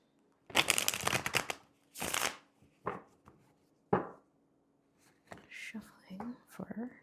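Tarot cards are shuffled in several bursts of riffling and sliding, close and fairly loud, with a soft voice speaking between them.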